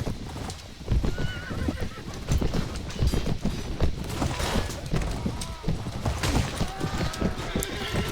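Horses gallop across a battlefield in the Mount & Blade Warband video game, with dense, continuous clip-clop hoofbeats and repeated whinnying and neighing close by, all without speech.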